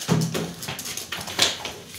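Irish setter golden retriever mix dog playing fetch close by, with scattered thumps, scuffles and brief whimpering noises over a couple of seconds.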